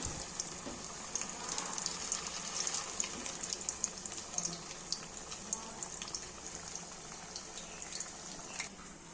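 Potato tikki (aloo tikki) frying in a pan, a dense, even hiss of hot oil sizzling up close without a break, with no voices over it.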